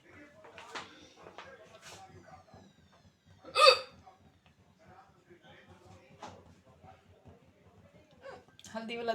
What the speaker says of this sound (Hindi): हिचकी चालू हो गई मेरी